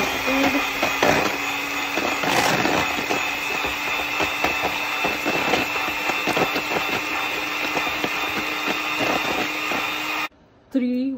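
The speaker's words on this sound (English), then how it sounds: "Beat the egg first." An electric mixer beats eggs for a pumpkin cream roll sponge: a continuous close whirring drone with rattling clicks, cutting off briefly near the end.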